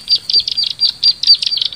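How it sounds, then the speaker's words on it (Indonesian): A cigro bird, also called the large krabasi, chirps in rapid bright bursts of high, clustered notes repeated in quick succession. The calls are close and clear against quiet outdoor background, with no voices. "Burung cigro atau burung ano guys."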